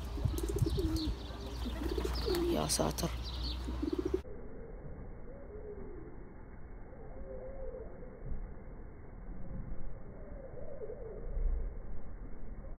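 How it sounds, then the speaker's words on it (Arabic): Soft, low pigeon coos drift in repeatedly at a distance on a hilltop in Najaf, partly covered at first by a brief burst of louder noise. "في حمام هنا"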